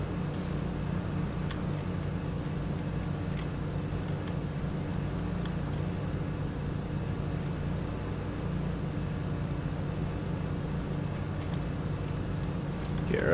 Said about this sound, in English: We're going to start mowing.